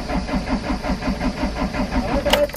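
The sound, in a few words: attempts to start a car's hot engine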